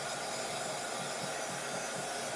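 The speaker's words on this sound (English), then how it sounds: "And then you just dry it with the heat gun" A heat gun blows over a watercolour painting of layered flowers, a steady, loud airy hiss and whir running unbroken throughout.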